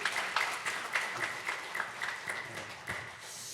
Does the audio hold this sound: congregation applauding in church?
yes